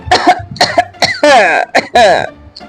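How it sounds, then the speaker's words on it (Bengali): Several sharp coughs and throat-clearing bursts from an older man in quick succession, close and loud, with a few harsh, drawn-out hacking coughs near the middle. "বড় মামার কাশির শব্দ কানে এলো"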